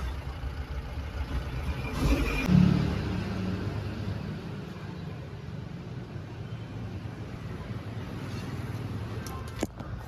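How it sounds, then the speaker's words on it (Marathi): A vehicle pulls up and parks at a public location before unloading. A low, steady engine rumble with road and wind noise fills the whole stretch, swelling briefly near the start, with no talking. "गाडी लावून घेऊ आणि बघू"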